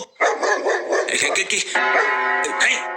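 A person's voice imitates a dog, giving a run of close, loud, yapping barks and whimpering yips in a comic Bengali audio story.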